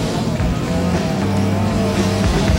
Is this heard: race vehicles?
yes